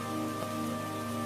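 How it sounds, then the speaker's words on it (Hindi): A heavy rain sound effect for a storm at sea pours down as a steady, loud wash without pause, with a sustained tonal hum running underneath. "बूंदाबूंदी शुरू हुई और फिर मूसलाधार बारिश होने लगी।"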